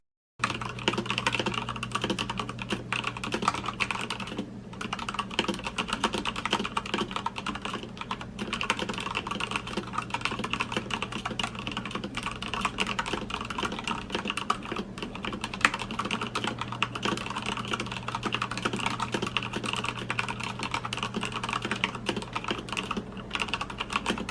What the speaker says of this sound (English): I don't feel like I'm hitting the lights when I type on the keyboard